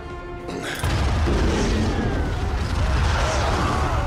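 An oil refinery blows up in a World War II sniper film: a deep, sustained roaring blast with rumbling low end that holds loud for several seconds after a sudden onset.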